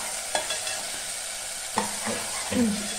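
A spoon stirs tomato masala frying in oil in a pan, a steady sizzle under a few scraping strokes, close and alone.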